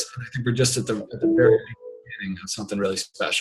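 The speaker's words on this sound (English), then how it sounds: "I'm sorry for my phone ringing." A mobile phone ringtone chimes briefly and faintly beneath someone talking during a podcast conversation.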